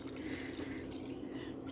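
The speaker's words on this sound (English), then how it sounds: "I'm just going to add in a little bit of water to bring that up to that maximum line" Water pours into an Instant Pot to bring a lima bean soup up to the maximum line, a steady, close trickling and splashing that holds constant for the whole moment without talk.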